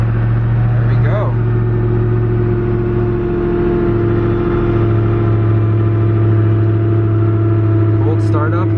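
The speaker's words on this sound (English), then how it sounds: "Cold startup on the Agera" Koenigsegg Agera RS hypercar firing up from cold, a loud, steady engine drone with a strong low rumble that holds throughout, with people talking over it.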